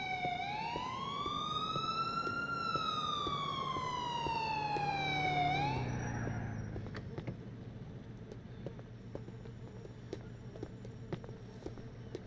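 A police car siren in GTA 4 wails up and down in long sweeping cycles, loud and steady, then cuts off, leaving quiet engine hum and scattered small clicks.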